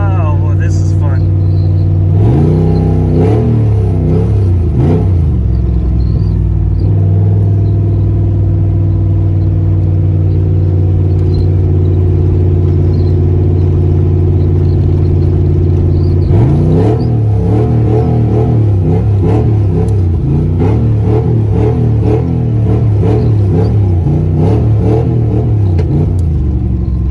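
A Ford Mustang with a repaired T5 manual transmission is floored, its engine revving loud and close through rising bursts, settling into a steady drone, then climbing again with strong interior rumble throughout.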